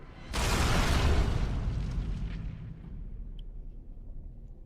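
A single big explosion in Dragon Age Origins bursts in sharply, then a heavy rumble slowly fades over several seconds, loud and close, with no voices.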